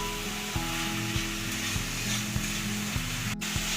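Spices frying in hot oil for a Bengali rui fish jhal, a steady close sizzle broken by regular scraping stirs of a spatula.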